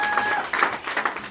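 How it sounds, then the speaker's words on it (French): A church congregation at a worship service applauds, a brief burst of dense, moderately loud hand clapping with a few voices mixed in. "Applaudissons pour notre Dieu."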